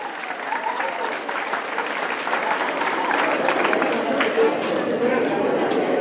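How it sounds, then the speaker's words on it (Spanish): An audience at a school event applauds steadily for several seconds, a dense wash of clapping from many hands with voices faintly mixed in. "Un aplauso para ellas,"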